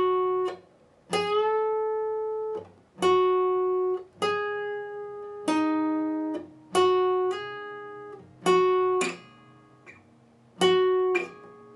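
Slow electric guitar run through the second part of a solo, about nine separate picked notes and bends, each ringing out and decaying before the next, played alone and close with no talking.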